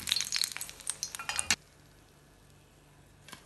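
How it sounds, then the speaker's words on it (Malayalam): Brinjal slices frying in oil in a home kitchen for a spiced masala, with dense sizzling crackle and light clinks for about a second and a half, then near silence. "വഴുതിനങ്ങ രണ്ട് സൈഡും ആവശ്യത്തിന് ഫ്രൈ ആയിട്ടുണ്ട്."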